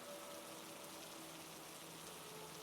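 A storm's rain falls as a soft, constant hiss of drops, faint and even throughout with no distinct thunder or wind.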